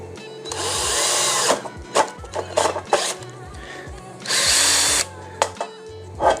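A power drill bores a hole with a step drill bit during a Fermzilla All Rounder glycol chilling conversion, two loud sustained whines about a second each, with short clicks and knocks between them, close by.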